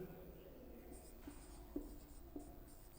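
Marker or chalk writing on a board during an English grammar lesson, faint scratchy strokes in short bursts with a few light taps, heard quietly under a low room background.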